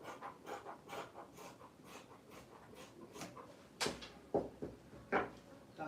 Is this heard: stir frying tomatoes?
no